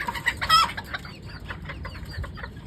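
Chickens of foreign breeds clucking in a poultry farm shed, a close series of rhythmic clucks and short squawks that repeat steadily, with a busy flock murmuring behind them.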